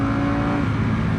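A 2025 BMW S1000RR motorcycle engine on a riding-lesson ride as the throttle is released, giving a loud, steady close-up drone with a strong low hum that shifts slightly partway through.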